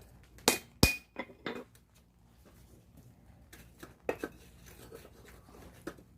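Sharp metallic strikes of a hammer forging a steel Damascus billet ring out irregularly, a few loud blows early then lighter taps, with quiet workshop room tone between.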